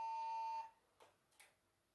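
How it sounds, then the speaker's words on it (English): A baby monitor gives one sustained electronic beep lasting about half a second, then cuts off, leaving only faint soft clicks in a quiet room. "It's my baby monitor."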